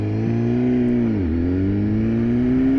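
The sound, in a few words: BMW S1000RR motorcycle engine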